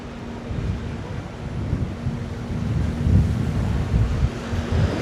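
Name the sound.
wind on a London street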